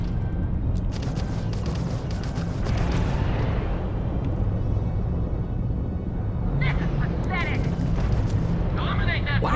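Missile attacks strike in a video game as a steady, loud roar of booming blasts and rumbling explosions throughout, with sharper bursts near the end and some voice mixed in.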